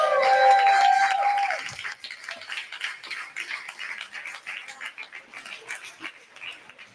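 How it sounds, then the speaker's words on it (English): Guests at a wedding reception break into scattered applause, the first seconds masked by louder room noise before clapping carries on at a moderate, uneven level to the end. "Round of applause, please, for Nicole and Matt."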